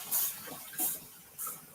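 Three short, sharp hissing spray bursts of Dawn Power Wash dish cleaner from a trigger bottle, evenly spaced and close, with quiet room noise between them.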